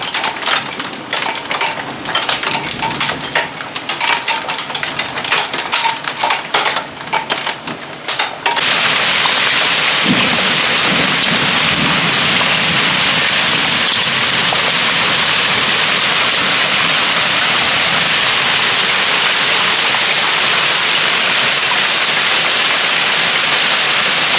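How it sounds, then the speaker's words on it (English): Hail pelts down during a thunderstorm in a dense, crackling rattle of impacts, then gives way to a loud, unbroken roar of heavy precipitation. "that's now hailing pretty good"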